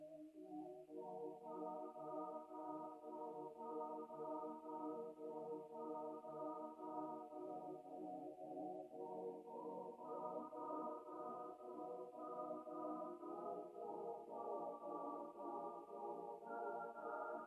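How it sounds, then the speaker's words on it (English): A soft, bell-like synth lead loops a gentle melody over a steady backing in FL Studio 20, quiet and continuous throughout. "Then I added a lead, well, it's a bell, literally just a bell to be honest"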